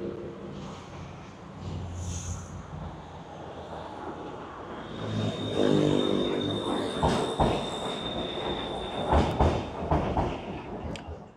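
A Bangkok BTS Silom Line metro train crossing the bridge over the Chao Phraya River between Saphan Taksin and Krung Thonburi stations: steady rolling rumble from inside the car, rising midway, with high wheel squeal and rhythmic rail clatter.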